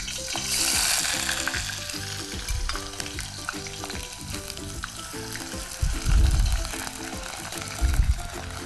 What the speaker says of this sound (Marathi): तर आता हे तेल तापलेलं असताना आपण याच्यामध्ये हे बटाटे तळून घ्यायचे.